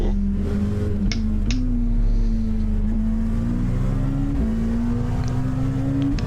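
LMP1 prototype race cars in iRacing, a loud continuous engine drone with shifting pitch as the cars pass, gear changes marking brief steps, and no talk.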